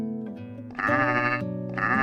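Goats bleat in a village street as a story sound effect, with two long wavering cries close and clear over a soft steady hum.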